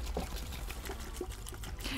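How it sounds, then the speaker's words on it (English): Close, steady sloshing and rattling of liquid as a small spray bottle of homemade hair detangler with lavender oil is shaken vigorously. "Shake it up."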